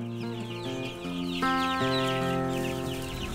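Three-week-old chicken chicks peep and cheep continuously, with many overlapping high chirps mixed with lower clucking tones, close and fairly loud.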